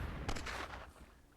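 Explosions and gunfire from the fantasy strategy game Myth II Soulblighter, a brief cluster of crackling blasts early on that fades into a quieter battle rumble, faint and somewhat distant, with no talk.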